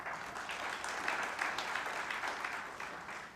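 Audience applause at a Hindi public speech event, a steady dense wash of many hands clapping at moderate loudness with no gaps, sustained throughout.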